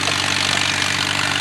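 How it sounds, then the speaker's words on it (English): A tractor-powered sawmill running on a belt drive, with a steady, loud, dense engine drone and machinery roar filling the scene without pause. "Yeah, there's a sawmill running."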